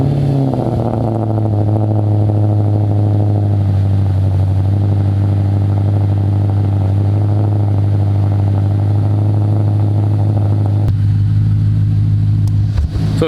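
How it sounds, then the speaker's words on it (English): An Audi fitted with an Awe Tuning track edition exhaust burbles and idles with a deep, steady rumble, loud and close, shifting in tone near the end with no talking. "with this exhaust setup, it burbles quite a bit"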